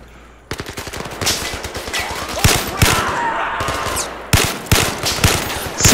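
An AK-47 rifle fires in rapid, loud bursts of automatic gunfire in the VR shooter Zero Caliber, with dense crackling reports and short pauses between volleys.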